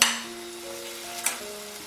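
Spices frying in oil for palak paneer are stirred in a pan, with a soft steady sizzle and a few scraping strokes of the spoon against the metal, close up and without any talk.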